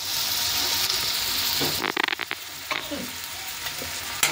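Very hot oil in a kadhai hisses and crackles up close, with a few sharp clattering stirs partway through before the steady sizzle continues.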